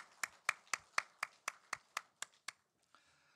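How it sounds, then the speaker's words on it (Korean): A single person claps in a slow, even rhythm during a church Easter service, about ten crisp, evenly spaced claps close by, then stopping, followed by near silence. "우리 목자 성가대 위해서 다시 한번 축복의 박수 해줍시다"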